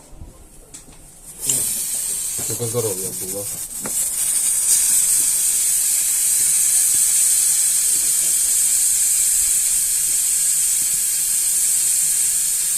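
Loud, continuous broadband hiss rises abruptly from a BMW E34 engine being taken apart and holds steady to the end, with brief voices and handling noises just before it starts.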